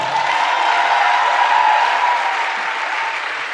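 A church congregation claps together in a sustained, loud round of applause that holds steady throughout, with no voices standing out.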